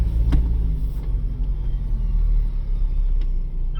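A Ford Bronco climbing a hill in trail control at about 1.5 miles an hour, a close, steady low engine rumble with faint clicks and rattles and no talking.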